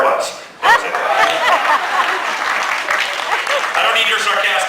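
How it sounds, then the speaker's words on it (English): A live comedy-juggling show audience gives scattered, half-hearted applause mixed with chuckles and laughter after a failed juggling trick, crowd noise sustained across the whole stretch with a performer's voice over it. "I don't need your sarcastic sympathy applause."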